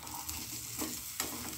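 An egg fries in hot oil with a soft, steady sizzle and a couple of faint scraping touches, heard quietly and close by.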